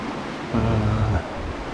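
Water of a river flowing into the fjord at Strömmen near high tide rushes in a steady broadband wash with a soft swell of waves, close and fairly loud, no voices.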